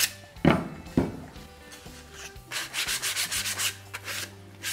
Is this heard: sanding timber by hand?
yes